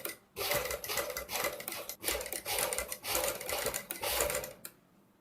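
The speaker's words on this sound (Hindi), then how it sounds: "बहुत ही आराम से मशीन चलानी है ध्यानपूर्वक, ताकि जल्दबाजी में कई बार क्या होता है सुई वगैरह टूट जाती है।" A sewing machine stitches lace around the neckline of a boat neck blouse in close, steady bursts of rapid whirring. It pauses briefly a few times and then stops.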